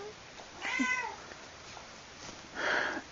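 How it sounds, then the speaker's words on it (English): A cat meows twice, short and fairly close, with a quiet pause between the calls. "I don't know if you can hear that. That's my cat."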